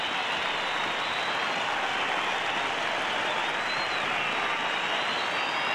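A Test cricket crowd applauds Greg Chappell reaching his half century in a match against Pakistan, a sustained, even wash of clapping from many spectators that runs the full length without pause.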